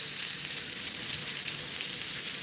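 Steak frying in a pan, a steady crackling sizzle held close and fairly quiet, with no voices over it.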